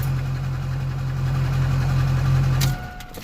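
A Duramax LBZ diesel truck engine with an exhaust fitted idles with a steady low hum, then cuts out near the end, leaving quieter background noise.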